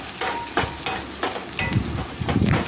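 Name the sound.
sautéing cashews, garlic and ginger in a pan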